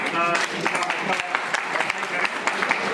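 Applause from farmers at a village quiz competition, with a steady patter of clapping mixed with crowd noise and voices talking over it throughout.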